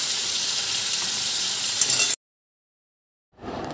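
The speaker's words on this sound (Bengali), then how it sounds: "তেল গরম হয়ে গেছে, ওই তেলের মধ্যেই আমি কালো জিরে আর শুকনো লঙ্কা ফোড়ন দেব" Black cumin seeds and dried red chillies crackling in hot oil for a tempering, a loud steady sizzle with high hiss that cuts off abruptly, leaves a silent gap, then returns.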